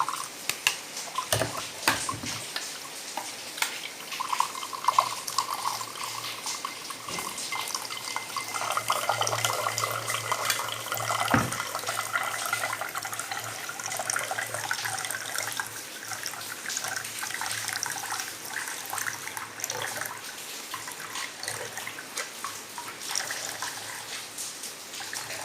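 Gooseberry and mint juice is poured into two glasses in a steady, splashy stream of liquid that runs on for the whole stretch. A few light knocks and drips come in near the start.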